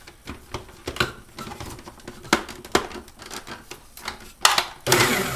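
A food processor pulses in short bursts through a beer cheese mixture with flat beer and horseradish, several brief whirring spurts of uneven length separated by pauses, close and fairly loud.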